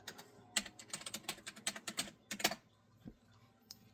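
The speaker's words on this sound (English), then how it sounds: "You type in google.com." Rapid, uneven clicks of keys on a computer keyboard being typed, close and crisp in short bursts, tapering to a few isolated taps near the end.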